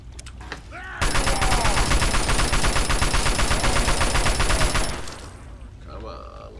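Gunfire in Fallout 3, a sustained loud burst of rapid automatic shots for about four seconds, starting abruptly and trailing off into quieter ambience, with scattered faint sounds before and after.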